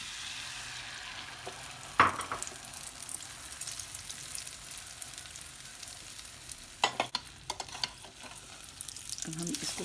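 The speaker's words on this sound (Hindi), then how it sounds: "अब हम डालेंगे इसमें दूसरा ऑमलेट।" An omelette frying in a pan for a burger gives a steady, fairly quiet sizzle, broken by a few sharp scrapes and clatters partway through.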